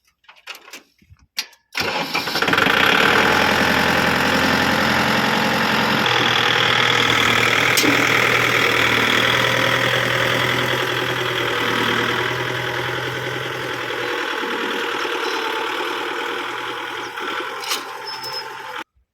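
A Kubota 55 hp tractor engine runs steadily in extra second gear, a loud, close, throbbing diesel drone that holds for most of the stretch after a few brief knocks at the start.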